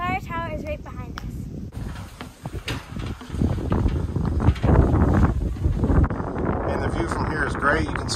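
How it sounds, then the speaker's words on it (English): Strong wind batters the microphone on a mountain summit beside a fire tower overlooking the Hudson River, with heavy low buffeting gusts that swell and ease, mixed with voices. "It is very windy"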